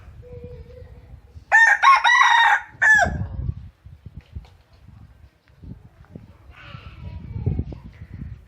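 A rooster crows once nearby, a loud drawn-out cock-a-doodle-doo ending in a short extra note, followed by quieter clucking and rustling farmyard sounds.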